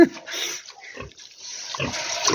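Piglets born to a sow on a farm grunt and squeal in short, close bursts amid rustling in the pen.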